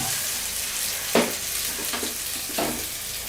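Onions frying in a pan for a Bangladeshi bhuna khichuri, browning toward a crisp fried-onion stage: a steady, dense sizzle with a few louder scraping stirs, heard alone.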